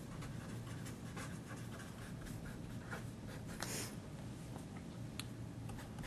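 Pen or marker writing out mathematical notation for partial derivatives, a steady faint scratching with brief stroke bursts over low background hum, no talk.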